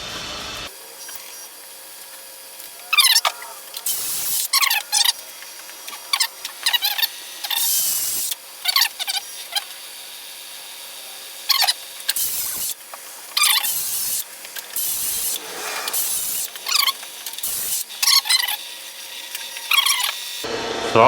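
Welding cable insulation is cut and stripped for scrap copper in a string of short, sharp snipping and tearing bursts with uneven gaps between them, close and fairly loud, with no one talking.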